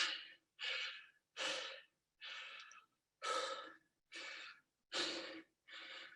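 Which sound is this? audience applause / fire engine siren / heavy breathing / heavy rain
heavy breathing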